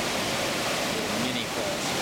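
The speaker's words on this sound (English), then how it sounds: "This is the arm of the Niagara going towards Bridal Veil Falls." Broad, steady rush of the Niagara River's arm flowing toward Bridal Veil Falls at Niagara Falls, a continuous loud roar of moving water with no clear breaks.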